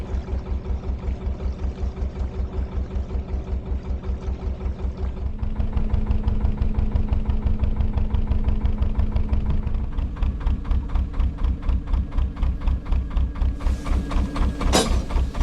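Narrowboat diesel engine chugging in a fast, even beat as the boat approaches on a winter canal, loud and close throughout, rising slightly in loudness partway through, with a brief sharp clatter near the end.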